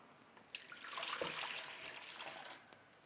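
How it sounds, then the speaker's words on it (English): Warm water poured into a large bowl for no-knead bread dough, a soft splashing pour that swells over about two seconds and then tapers off, close and moderately quiet with no talking. "First, we add our 3 cups of warm water to a large bowl."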